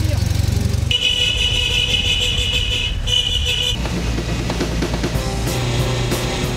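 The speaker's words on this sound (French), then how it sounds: "L'important c'est le petit coup de klaxon" A vintage Citroën 2CV at an old-car gathering in Yffiniac gives a loud, sustained honk of its horn, then a short second blast, over a running engine and background voices.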